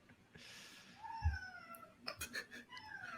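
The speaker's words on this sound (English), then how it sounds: "Can you guys hear the cat in the background?" Cat meowing in the background during a sports podcast, a drawn-out meow followed by a few shorter ones, faint and distant beneath low voices.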